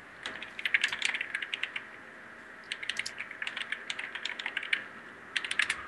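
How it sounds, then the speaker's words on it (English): Brisk computer keyboard typing comes in quick clattering bursts with short pauses in between, close and clear over a quiet background. "Typing, you mean?"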